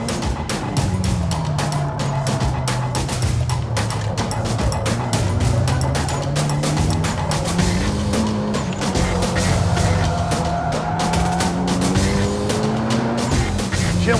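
Engine of a car on a fast circuit lap, either a Mitsubishi Lancer Evolution VII or a Toyota GR Yaris 1.6 Circuit Pack, droning loud and close with pitch climbing and dropping through gear changes and tyre noise.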